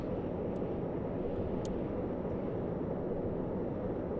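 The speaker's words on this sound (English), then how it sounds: "Ooh, they got a fighter jet up." Steady, loud jet roar of an enemy fighter jet flying in the Stormworks video game, a constant broadband engine drone filling the whole stretch with no breaks, a few faint high blips above it.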